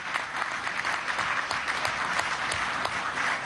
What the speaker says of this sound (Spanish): Se encuentra entre nosotros, un aplauso también